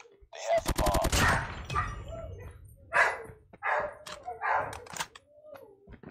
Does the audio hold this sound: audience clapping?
no